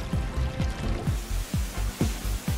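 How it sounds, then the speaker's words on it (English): High-pressure water gushes and pours in rhythmic surges about twice a second, washing coffee beans from their husks, loud and close, with processing machinery churning underneath. "High pressure water separates the coffee beans from their outside husks."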